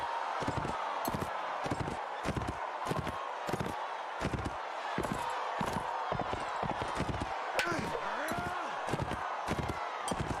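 Horse hooves clip-clop steadily in a video game with a longbow-wielding rider, a close, even run of hoofbeats that keeps going while someone talks over it.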